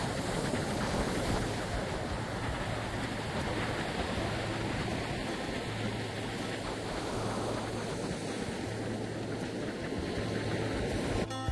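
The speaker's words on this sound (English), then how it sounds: "Beautiful, clean, undisturbed sand and the sound of the ocean waves." Ocean waves wash onto the sand at Jones Beach State Park on a winter day, a steady, broad rushing surf mixed with wind noise, with no voices.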